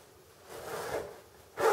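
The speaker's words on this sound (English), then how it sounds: "The zipper works really well." A zipper on a vintage Bear soft case for a Bear Kodiak Magnum recurve bow is drawn in a couple of close, rasping pulls, ending in a louder final swipe.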